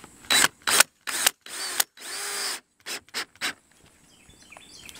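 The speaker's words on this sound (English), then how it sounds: "We're going to use this other black wood screw on the outside of the handle on the bottom just to hold the bottom" Power drill driving a black wood screw into a Larson storm door handle on a greenhouse, several short close whirring bursts with one longer run, trigger pulses separated by brief pauses.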